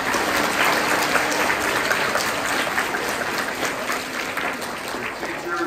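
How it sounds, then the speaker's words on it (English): Sustained applause from a crowd at a school Veterans Day program fills the whole stretch, steady and fairly loud with no speech over it. "So one more applause."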